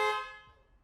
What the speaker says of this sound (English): you'll be able to actually honk the horn